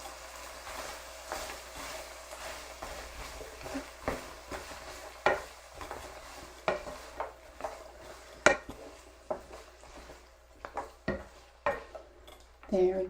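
Rainbow beef stir-fry vegetables being stirred in a pan, with scraping and clinking of the utensil against the pan in irregular bursts over a soft background sizzle, close by.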